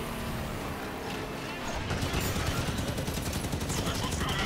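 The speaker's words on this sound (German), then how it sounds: "ich merke, dass die auf uns schießen" Enemies fire at the player in Halo 5: Guardians, a dense, continuous rattle of gunfire that grows louder partway through, layered with vehicle and game noise and some speech.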